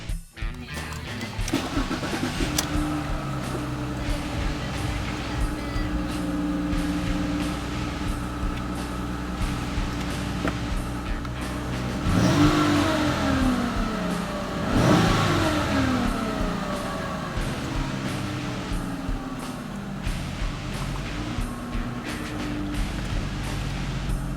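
2011 Ford Fusion SE with a flex-fuel V6 and six-speed automatic idles steadily, then is revved twice midway with rising and falling engine pitch, heard close and alone with no talking.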